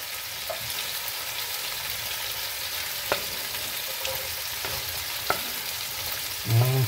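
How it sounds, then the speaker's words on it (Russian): Meat fries in oil in a pan, a continuous close sizzle with a few light clicks and a soft thump near the end, with no voices. "по соседству у нас как раз жарится мясо"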